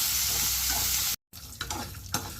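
Ten green chillies fry in a pan for a ridge gourd and tomato chutney, giving a steady close sizzle that cuts out briefly and then returns with spatula stirring and scraping.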